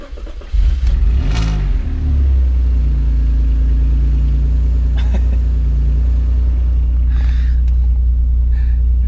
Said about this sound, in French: Cette voiture démarre, cette voiture roule, mais cette voiture m'énerve.